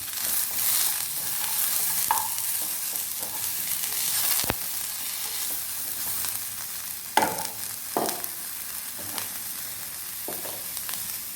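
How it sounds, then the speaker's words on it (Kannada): Capsicum and cabbage fry in a pan for Chinese bhel, giving a continuous close sizzle broken by occasional spatula taps and stirring scrapes. "ಸ್ವಲ್ಪ ಕ್ಯಾಪ್ಸಿಕಮ್, ಸ್ವಲ್ಪ ಕ್ಯಾಬೇಜ್ ಹಾಕಿ ಎಲ್ಲವನ್ನು ಒಮ್ಮೆ ಫ್ರೈ ಮಾಡ್ಕೊಳ್ಳಿ"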